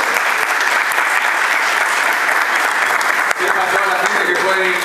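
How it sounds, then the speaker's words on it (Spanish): An auditorium audience at a university conference breaks into dense, sustained applause, loud and continuous throughout with a slight swell near the end. "Un aplauso para el club."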